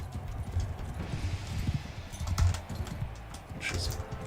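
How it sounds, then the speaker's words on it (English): Galloping horse hooves clatter in rapid clip-clop bursts during a battle in Mount & Blade II: Bannerlord, a dense, steady rhythm of near and mid-distance hoofbeats with no talk over it. "These horses are right in the way."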